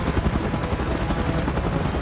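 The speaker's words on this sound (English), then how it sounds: "Chopper in position." A helicopter in PUBG Mobile, its steady, loud rotor thrum and engine roar continuous and close throughout.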